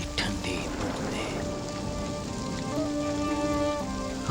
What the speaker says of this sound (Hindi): बारिश की ठंडी ठंडी बूंदें